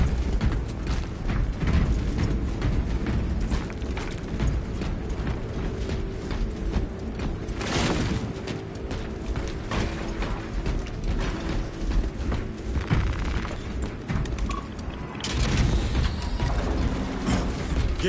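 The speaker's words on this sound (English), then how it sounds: "Gears are grinding like an old contraption." Mechanical grinding of gears on old controls in the video game Warhammer 40,000: Space Marine 2, a steady loud rumble with ratcheting clanks and creaks running the whole time, no talk.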